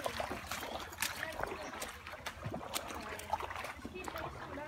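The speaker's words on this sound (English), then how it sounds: "Lewis, stop splashing." Someone splashing through water while wading in the wilderness on a snapping turtle outing, irregular sloshes and splatters at close range, with people talking over them.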